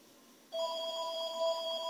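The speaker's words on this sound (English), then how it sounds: "Every time I do a video, the phone rings." A telephone suddenly starts ringing indoors, a clear electronic tone that begins after a brief quiet moment and continues steadily, fairly close and alone without voices.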